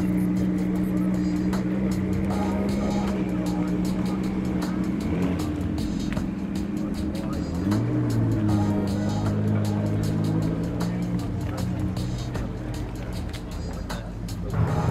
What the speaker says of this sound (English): be watching this car drive past you as you would in the real world